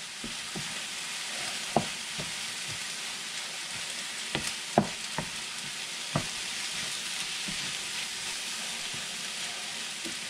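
Cauliflower fried rice sizzling steadily in a pan while it is stirred, a continuous close frying hiss broken by several sharp clicks and scrapes of the utensil against the pan, with no voices.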